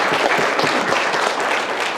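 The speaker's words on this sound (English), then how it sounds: "That's right, we should clap for that." Dense audience applause at a Native American Studies 50th anniversary event, a steady wash of many hands clapping together, loud and continuous throughout.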